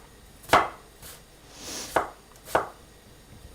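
Three crisp knife chops through winter melon on a cutting board, evenly spaced and fairly close, with a quieter scrape between them and no talking.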